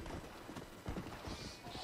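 Undead horse hooves gallop in the Red Dead Redemption: Undead Nightmare video game, a quick, faint clip-clop rhythm with soft background noise.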